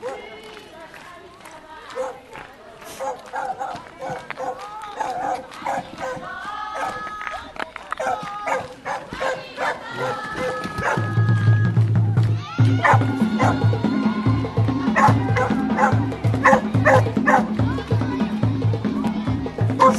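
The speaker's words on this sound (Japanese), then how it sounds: "さっきから暴れてるのがこの犬です" A restless dog yips, barks and whimpers intermittently at an outdoor festival stop on a Japanese cycling trip, sharp calls scattered amid crowd chatter and nearby talking.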